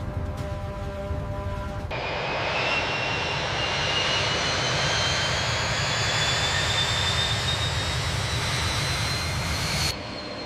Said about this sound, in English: The Sukhoi Su-35S touches down smoothly